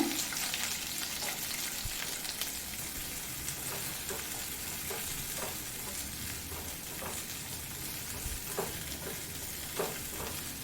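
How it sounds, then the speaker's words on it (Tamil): Cut capsicum frying in hot oil in a kadai over high flame: a steady, dense sizzle close by, with occasional faint stirring scrapes and no talking. "எண்ணெய் சூடானது அதில் கட் பண்ணி வச்சுருக்கிற குடமிளகாக ஃப்ரை பண்ணிக்கோங்க"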